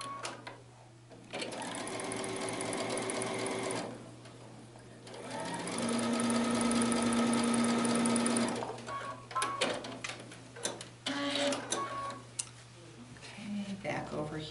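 A sewing machine stitches a quilt block seam in two steady bursts of rapid mechanical whirring, close and fairly loud, with pauses and scattered clicks and handling noises between them.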